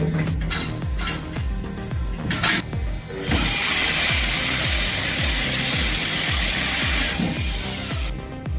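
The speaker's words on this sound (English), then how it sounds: "It saws logs just under 39 inches, offers a safer chainsaw alternative" A hydraulic chainsaw wood processor cuts through a large log, with rhythmic rasping bursts from the chain. Midway a loud, steady high-pitched saw roar takes over and holds close before dropping back.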